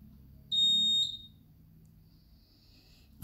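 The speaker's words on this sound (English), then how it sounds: "in a moment you will hear it beep" A single sharp, high-pitched electronic beep from a Xiaomi Mijia Honeywell smoke alarm during its self-check lasts about half a second, then fades into quiet room tone.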